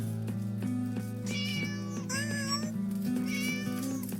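Cats meow repeatedly in the video game Jrago The Demon Hunter, their clear, rising and falling cries overlapping one another above steady, continuous game music.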